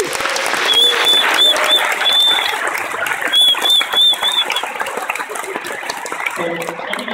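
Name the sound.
audience applause at Wikimania conference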